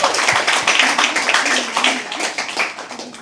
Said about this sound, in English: crazier round of applause?